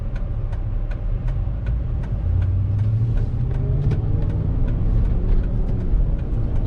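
A 2005 Ford Expedition Eddie Bauer 4WD drives up to highway speed, its engine humming steadily as the pitch climbs and then drops with a gear shift. Faint regular ticks sound through the hum, and no voices are heard.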